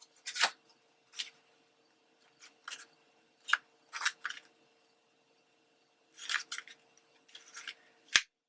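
Scissors snip through paper in short separate cuts, close and quiet, with pauses between the strokes and a faint background hum.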